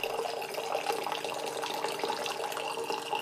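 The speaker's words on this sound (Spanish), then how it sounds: "pulsando el botoncillo empieza a caer agua filtrada automáticamente" Filtered water streams steadily from a Philips AWP2980WH filter jug into a glass after its button is pressed, a continuous close splashing pour with no talk.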